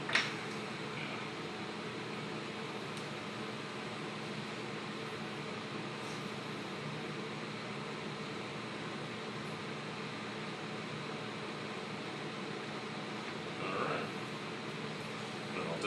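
Vacuum pump drawing air through the training tubes of an olfactory maze in a neuroscience lab, heard as a steady, faint, broadband whoosh that continues unchanged from start to end.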